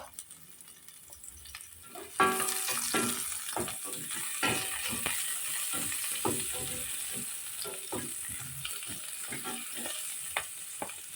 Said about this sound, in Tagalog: gisa na tayo ng ating sibuyas